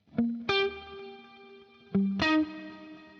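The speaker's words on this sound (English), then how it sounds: "keep that the same and put in the PLEX delay" Electric guitar notes run through a PLEX delay on a Fractal FM3, FM9 or Axe-Fx III, two plucked phrases each blooming into sustained, shimmering, diffused repeats that ring out between attacks, with no talk.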